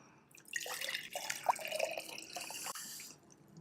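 Water being poured into a glass, a short splashy trickle rising and falling for a few seconds, close and fairly soft, with a clink-like drip near the middle and no speech.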